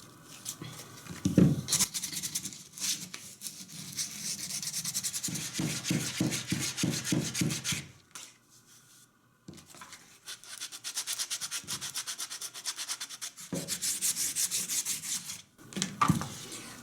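Coarse sandpaper rubbed by hand over dry wood in steady back-and-forth strokes, a rhythmic scratchy rasp close up, pausing briefly midway before resuming.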